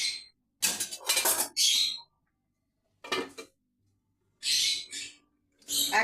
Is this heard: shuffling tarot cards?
no